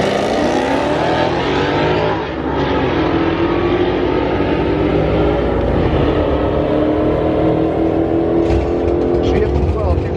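An all-wheel drive stick-shift car racing down a drag track, its loud sustained engine roar filling the whole stretch, with people talking over it.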